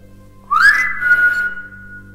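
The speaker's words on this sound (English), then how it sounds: "it kind of sounds like it's whistling back" A whistle-like tone rings out inside an abandoned sanatorium, rising sharply then holding a steady pitch for over a second with reverberant echo in the empty rooms, loud against a quiet background hum.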